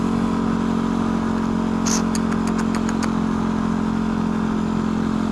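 A turbocharged Yamaha WR250R motorcycle being ridden gives a loud, steady engine drone with a low hum. A brief run of sharp clicks and rattles sounds partway through.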